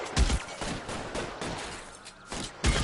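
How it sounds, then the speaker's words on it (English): Gunfire in the video game L.A. Noire comes as several close, sharp shots in quick bursts over a dense background of game noise. "Two shots."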